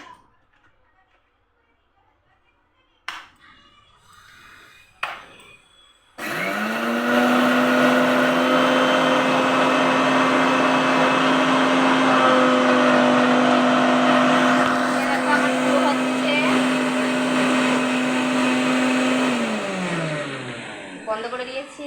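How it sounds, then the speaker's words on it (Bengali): A kitchen mixer grinder powdering ingredients starts after a few knocks and handling sounds, then runs with a loud steady whine and hum for about fifteen seconds before winding down. "তাহলে আমি এটা মিক্সারে গুঁড়ো করে নিই।"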